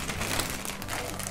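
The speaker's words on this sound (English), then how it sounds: "To just use a plastic bag, clean plastic bag, and I fill it with water." A clean plastic bag crinkles close by as it is handled while making Polish-style homemade sauerkraut, a short rustling burst with speech partly over it.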